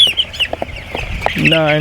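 Young chickens in a basket being weighed on a scale on a chicken farm, heard as rapid high peeping and clucking mixed with short spoken counting, with a brief rattle of handling near the end.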